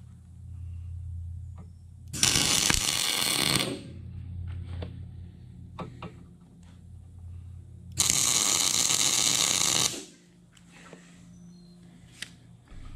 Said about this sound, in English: Set it in and tack weld this bad boy in place.